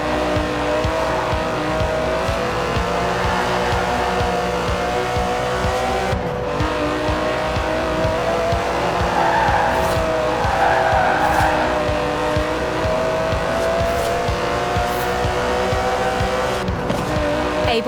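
Aston Martin DB11 with a 5.2-litre twin-turbo V12 racing in Forza Horizon 4, a loud, continuous engine drone at high revs with shifting pitch and occasional tire squeal, steady throughout with no talk.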